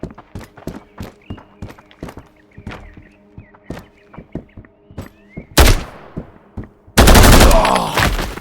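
Sharp gunshots in the Road to Vostok shooter game crack out in an uneven string of single shots and short bursts, then turn into heavier, louder sustained automatic fire near the end.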